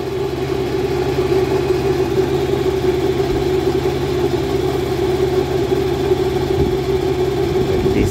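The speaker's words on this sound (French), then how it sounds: "Je pensais pas qu'il allait démarrer au deuxième coup. Même à froid, alors qu'il fait hyper froid dehors, il démarre" A car engine idles steadily after a cold start in very cold weather outdoors, a loud, close, even rumble with a constant low hum and no revving.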